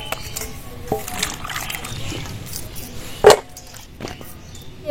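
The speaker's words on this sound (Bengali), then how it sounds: "শিমগুলো ভালোভাবে ধুয়ে নেব।" Flat beans are washed by hand in water, with close gentle sloshing and trickling plus a sharper splash or clatter near the end.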